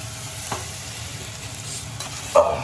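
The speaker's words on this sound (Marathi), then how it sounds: "मस्त परतून घ्यायचं मसाल्यामध्ये" Drumsticks (moringa pods) sauté in masala in a village-style sweet-sour curry, with a constant low sizzle and a few stirring scrapes, near and without talk.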